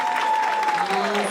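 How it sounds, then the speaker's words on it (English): Loud, dense applause from an audience at a completion celebration, many hands clapping continuously with a tonal hum running beneath. "another round of applause for Dr. Stephanie Harmon's group"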